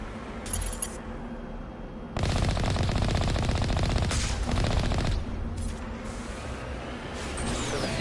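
Rapid cannon fire from the Mako tank in Mass Effect, a dense burst of repeated shots between two and five seconds over steady engine rumble, with shorter bursts before and after.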